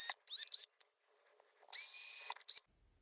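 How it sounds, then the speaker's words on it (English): A small power drill fitted with a 1mm bit whines through a hole in a cap. Several short bursts give way to one sustained high-pitched run of about half a second, then a final brief spin, all close up. "this is just a 1mm drill bit that I'm using."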